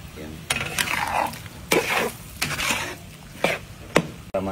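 Tomatoes being sautéed in a pan on a Regasco gas stove, with a spatula stirring and scraping in repeated sharp strokes over a low background sizzle.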